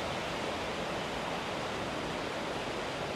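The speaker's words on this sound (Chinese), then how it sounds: "这个水流还是挺大的呢" A large, roaring waterfall at Kuang Si Falls in the Laos rainforest, heard as dense, steady broadband rushing that fills the whole clip with no voices.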